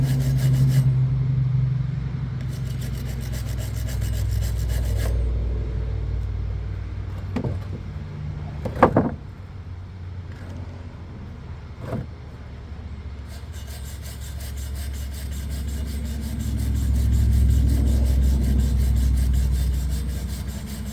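A piece of metal is rubbed and scraped clean ahead of clamping a welder's ground to it, a steady close abrasive scrubbing across the whole stretch with a couple of sharper knocks midway.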